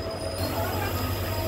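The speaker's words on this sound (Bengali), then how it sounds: "11টা বেজে 3 মিনিট ট্রেন পৌঁছে গেছে গোগামুখ রেলওয়ে স্টেশনে" The 15813 Dekargaon-Murkongselek train pulls into Gogamukh railway station. A sustained metallic squeal rides over a low, steady rumble of rolling wheels, close and continuous, with no voice.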